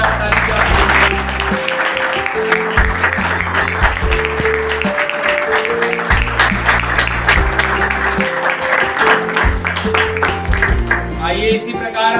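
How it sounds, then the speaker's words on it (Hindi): A church congregation on Pastor's Day claps to welcome a guest presented with a bouquet. The claps are steady and rhythmic, mixed under loud music with a prominent bass line. "जब वो स्वागत करती है, मंडली जोरदार ताली जाए"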